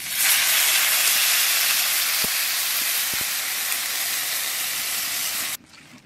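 Water poured into a pan of frying potatoes and green plantain sends up a loud, continuous steamy hiss that holds for several seconds with a couple of faint clicks, then cuts off abruptly.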